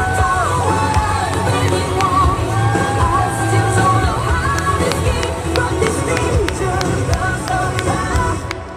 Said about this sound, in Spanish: ese fuerte aplauso para Lai